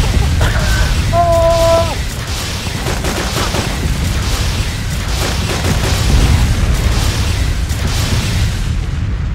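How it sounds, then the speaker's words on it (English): A video game explosion, a deep sustained boom and rumble that fills the whole stretch at close range, with a few brief tonal game sounds near the start. "Explosion!"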